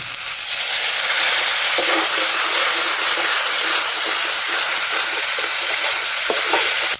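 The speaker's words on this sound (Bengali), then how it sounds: "এবারে সামান্য জল দিয়ে কষিয়ে নেব" Ginger-garlic masala sizzling loudly and steadily in a hot pan after a splash of water goes in for chicken skin curry, with a dense hiss and occasional stirring clicks throughout.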